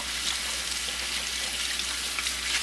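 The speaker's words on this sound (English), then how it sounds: "I just keep rinsing this until I get clear water running." Hot water runs steadily from a tap while a cleaning cloth is rinsed under it, a constant close splashing hiss with no talking.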